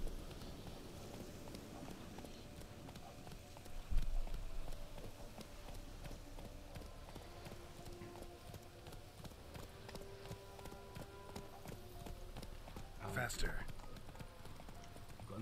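Horse hooves clip-clop in Witcher 3 as a mount is taken and ridden, a steady run of hoofbeats under continuous game sound, with a sharper thump near the middle and another toward the end.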